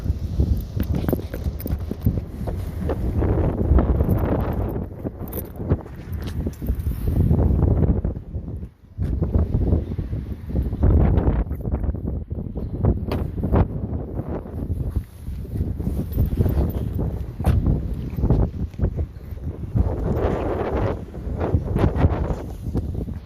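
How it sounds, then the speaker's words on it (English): Strong wind buffeting the microphone in heavy, rumbling gusts throughout, with brief lulls and scattered clatter underneath. "Bloody windy road, I tell you. I nearly got blown off my feet"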